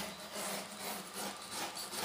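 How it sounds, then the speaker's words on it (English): Knife trimming the edge of a composite A-4 wing part freshly unbagged from its mold, a close, steady scraping and rasping cut in short strokes. "These are my absolutely favorite knives to trim this stuff with."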